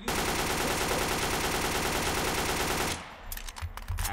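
Rapid automatic gunfire in the video game Garry's Mod during a fight against zombies, a dense sustained burst of shots that cuts off after about three seconds, followed by scattered lighter impacts.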